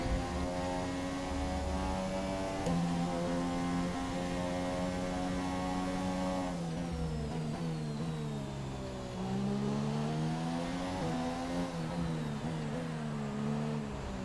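A race car engine in the video game Project Cars drones with steady harmonic tones that rise and fall as the car shifts and accelerates, heard alone and close.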